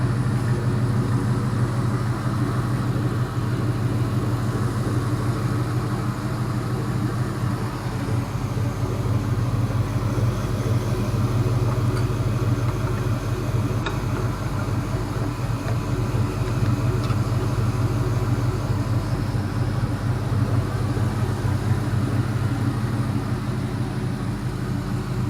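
A Chevy LS 5.3 V8 engine runs at a steady idle, a continuous low rumble with an even hum that holds unchanged throughout and has no voices over it.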